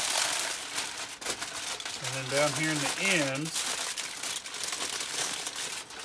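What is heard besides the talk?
wrapping smoked brisket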